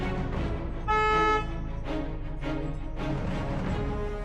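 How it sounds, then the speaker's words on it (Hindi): A short car horn honk sounds once, loud and close, over a steady engine rumble and background noise. "हॉर्न दे इधर खड़ा होके।"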